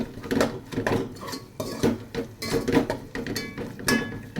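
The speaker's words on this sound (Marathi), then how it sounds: "आता हे छान मिक्स झालं." A metal spoon clatters and scrapes against a pan while stirring and mixing misal, in irregular close knocks and scrapes over several seconds.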